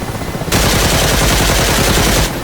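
A rapid burst of automatic gunfire from a Mi-8 helicopter's gun in the DCS flight simulator rattles loudly for about two seconds, dense and continuous, with a softer mechanical hum before and after.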